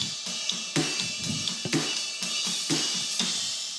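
A drum groove with steady hi-hat and a left-hand hi-hat variation at the end of the measure, crisp repeated hits with kick and snare accents, close and upfront with no voices.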